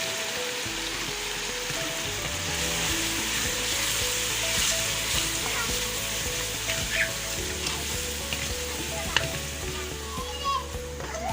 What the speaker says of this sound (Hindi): ये मसाले सारे डाल दिए।